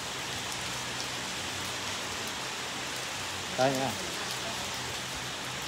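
Steady rain falls throughout as a dense, even hiss, with a brief spoken voice near the middle.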